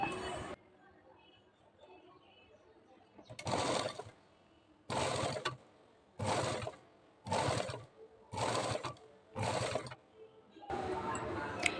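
A sewing machine stitches thread piping onto the neck of a princess-cut blouse in short, close bursts separated by brief quiet gaps, about seven runs of steady whirring stitches.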